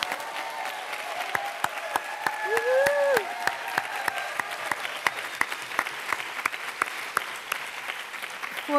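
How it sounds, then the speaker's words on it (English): Audience applause at a feminist social justice event celebrating a women's research center's anniversary: steady, dense clapping through the whole stretch, moderately loud, with a brief voice or whistle-like tone near the start. "I think we should start by giving a huge happy birthday round of applause to the Barnard Center for"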